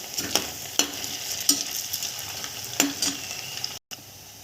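Sabudana fasting pakodas crackle and sizzle in oil over a medium gas flame, a constant hiss punctuated by several sharp metallic stirring taps, then a brief cut near the end.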